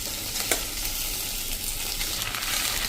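Cooked khichdi hits a hot spinach-and-pea tempering in the pan and sizzles loudly and steadily, with scraping stir noises and no voices.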